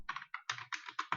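Close, quick computer keyboard typing: about eight crisp key clacks in a rapid, slightly uneven burst, with no voice over them.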